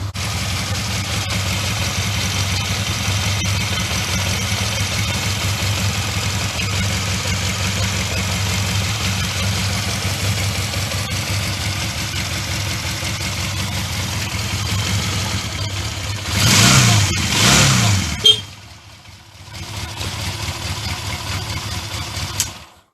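A Honda CD200 Benly motorcycle engine runs steadily at idle, then revs up briefly near the end before cutting out and settling again, heard close and alone.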